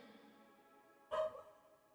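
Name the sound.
dog barking in the house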